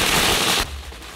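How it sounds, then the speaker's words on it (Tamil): Firecrackers burst in a rapid, dense crackling volley that is loud and close, then cuts off abruptly, leaving a faint background. "என்ன இது வெடி சத்தம்?"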